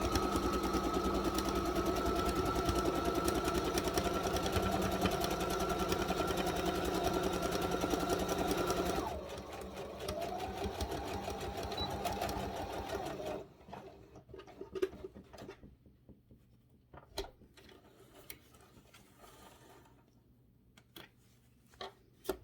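A sewing machine stitches fabric in a fast continuous whirring hum that stops, restarts briefly, then gives way to scattered clicks and handling noises of thread and cloth at close range.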